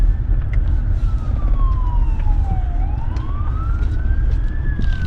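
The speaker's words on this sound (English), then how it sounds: "Well, now we got an ambulance now." An ambulance siren passing on the road, a loud wailing tone that falls then rises as it goes by, over heavy low vehicle rumble from inside a moving car.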